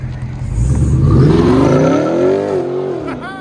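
A Dodge Charger Scat Pack 6.4L HEMI V8 with aftermarket exhaust revs hard and climbs in pitch, then eases off before a quick second rev, loud and close.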